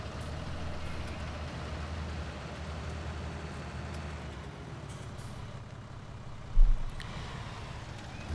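Low, steady engine rumble from a farm vehicle creeping forward in Landwirtschafts-Simulator 19, a constant drone with a brief thump near the end and no speech.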